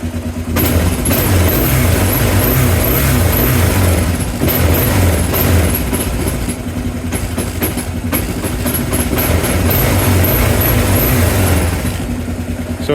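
A 2005 Kawasaki KLR 650 motorcycle with a newly installed MCP kit, its engine running loud and close in a continuous rumbling drone with throttle blips, a faint high whine riding over it.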